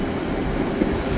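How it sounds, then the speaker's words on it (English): Train passing through Carlisle station, a steady broadband rumble and rush of rail noise, fairly loud and continuous with no distinct clacks, no voices. "So this is our last train of the day today"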